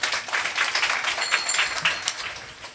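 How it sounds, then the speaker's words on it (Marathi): Audience applause rings out at a devotional kirtan event led by a Marathi singer, a steady dense patter of many hands clapping throughout with no pauses or talk. "एकदा गाणारासाठी वाजवण्यासाठी प्रेमाने टाळ्या वाजवा"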